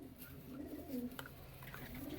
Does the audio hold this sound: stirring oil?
no